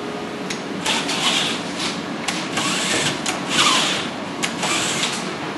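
A hand tap cuts threads into freshly drilled holes during a simulator installation, giving a series of faint metallic creaks and scraping clicks in irregular bursts against a quiet room hiss.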